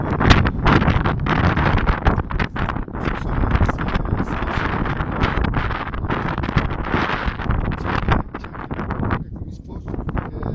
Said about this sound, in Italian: c'è ancora sempre tutto questo vento maledetto, purtroppo devo dirlo, che veramente non dà tregua